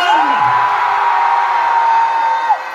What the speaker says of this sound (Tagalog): Lakasan nyo naman po ang inyong hiyawan!